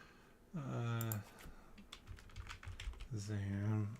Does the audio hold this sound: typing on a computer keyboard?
yes